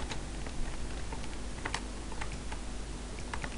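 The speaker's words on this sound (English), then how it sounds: "My keyboard's been a bit funny today." Soft, irregular clicking of computer keys at close range, a steady run of quiet taps over a low hum.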